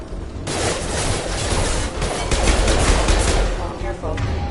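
Continuous gunfire in the video game Mass Effect 2, rapid overlapping bursts and impacts from a firefight, loud and dense throughout with little pause.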